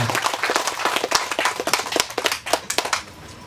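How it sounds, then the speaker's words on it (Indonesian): A crowd at an event for the Flobamora Kota Sorong secretariat building claps briskly, many hands making a dense, uneven patter that stays fairly close and fades toward the end. "Kita tepuk tangan dulu Bapak Ibu sekalian."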